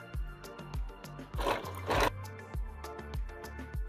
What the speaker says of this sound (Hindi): मजबूत करने के लिए एक बार और लगा देते हैं सिलाई।